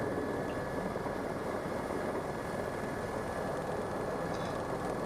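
Steady broadband rotor and engine roar from a helicopter lifting off a runway and climbing away, loud and continuous without pauses or voices.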